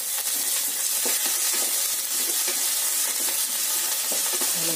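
Chillies frying in hot oil in a tempering with mustard seeds, cumin and curry leaves for curd rice, a steady close sizzle with faint crackles and stirring, no talking.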